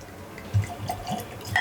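Bomberger's whiskey poured from a freshly opened bottle into a glass, a few quick glugs and splashes of liquid, close and distinct over a quiet room.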